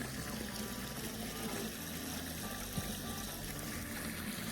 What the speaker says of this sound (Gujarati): તો પાણી જાય રહ્યું છે ને